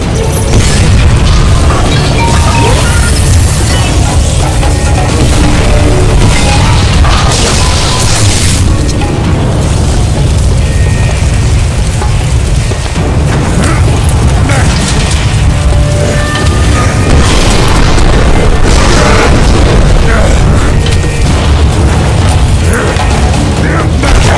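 Gravity core generators detonating in the shooter game Bulletstorm: a continuous, very loud wall of booming blasts, crashing debris and mechanical rumble filling the whole stretch, with a voice speaking over the chaos.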